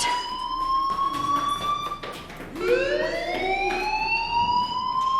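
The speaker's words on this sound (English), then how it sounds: "do you hear that fire alarm?" A loud electronic fire alarm wails steadily in the video game Life Is Strange, its tone sliding down and then sweeping back up partway through, with no talking.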